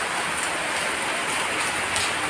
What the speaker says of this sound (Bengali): জোরে বৃষ্টিটা হোক